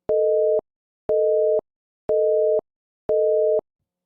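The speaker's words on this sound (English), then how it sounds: "we'll reinsert the busy signal here, which will identify busy content" Telephone busy signal: four even beeps, each about half a second long with half-second gaps, steady and clear with silence between and nothing else present.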